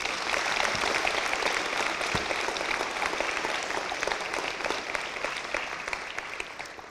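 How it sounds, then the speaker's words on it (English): A school awards ceremony audience applauds Year 12 students, continuous dense clapping from a large crowd that slowly fades toward the end. "Please give these students another round of applause."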